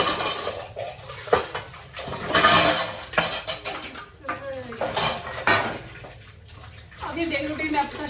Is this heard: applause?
no